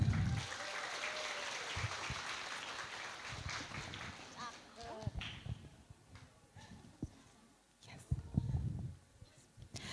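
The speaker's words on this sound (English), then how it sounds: "Please give a huge applause." Conference audience applause for a presenter at a pharmaceutical research event, faint and distant, swelling at the start and near the end with murmuring voices and some movement noise in between.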